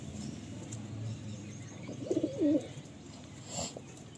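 A pigeon pair gives a short burst of cooing, a few low rolling coos near the middle over a quiet background, with a faint flutter afterward.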